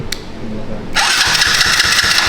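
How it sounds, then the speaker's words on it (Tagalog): Starter cranking on a Yamaha Y16-ZR motorcycle kicks in abruptly after a short quiet hum, then a loud, close, steady whirring grind with rapid rhythmic pulses until the end. "umiikot yung starter"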